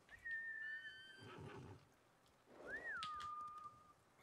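Horse whinnying in the video game Ghost of Tsushima, two separate high, wavering neighs with a short gap between them, fairly faint and clear of any talk.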